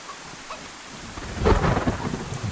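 Steady rain falls in the DayZ video game, with a rolling rumble of thunder building midway and lingering to the end, loud and close with no voices.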